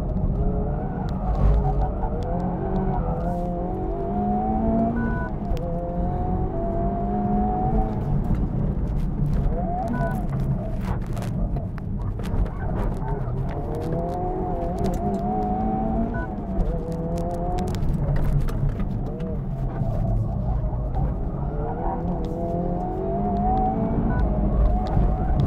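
A Spoon-tuned Honda Civic Type R built purely for circuit use runs continuously on track, its engine note rising and falling through gear changes with brief tire scrabble, loud and close throughout.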